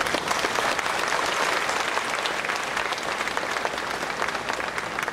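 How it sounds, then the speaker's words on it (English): A congregation claps together at a Christmas Mass, steady and dense applause filling the church for about five seconds with no talking over it. "Let us give our Lord a round of applause."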